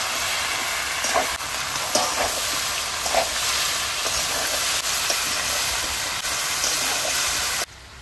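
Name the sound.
bottle gourd added to a frying pan, sizzling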